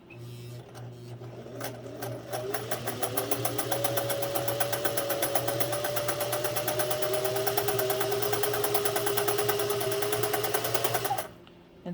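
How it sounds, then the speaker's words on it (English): A Singer 401a sewing machine stitching at a short stitch length, a steady rapid mechanical whirr and clatter running continuously for about eleven seconds before stopping abruptly, close and loud with no talk over it. "We're going to bring it down even further in terms of length so we can get the best stitch out of this."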